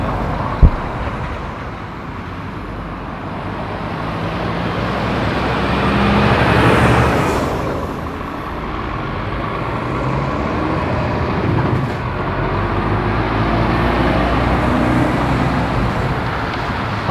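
Lorries and other traffic pass on a road in Middlewich, a steady loud roar of engines and tyres with swells as heavy vehicles go by, heard without talking.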